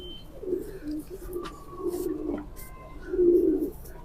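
Pigeons coo in low, throaty bursts, a few soft rolling calls with a louder, longer coo near the end, close by.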